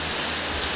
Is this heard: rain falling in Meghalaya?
yes